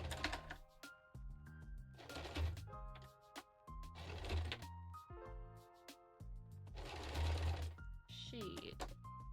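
A sewing machine stitching fabric for a cosplay costume with a zipper foot, running in several bursts of rapid mechanical whirring separated by short pauses, close and fairly loud.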